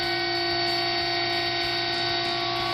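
Hydraulics on an Acer 10 x 20 inch three-axis automatic surface grinder hum steadily and loudly, a constant tonal machine drone with no pauses and no voices.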